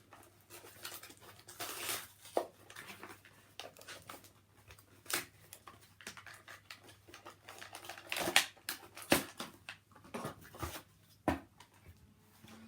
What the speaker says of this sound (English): This is very well packaged. So I might just have to just rip it to pieces.